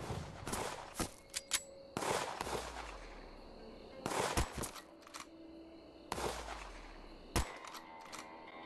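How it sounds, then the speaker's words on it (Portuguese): Bullets striking bombs in the Wild West shooter Western Sniper, four loud sharp shots at roughly two-second intervals, each with a clattering ring and short tail, heard without speech. "dá pra atirar aqui nas bombas aqui"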